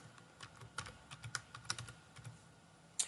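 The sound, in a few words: typing on a computer keyboard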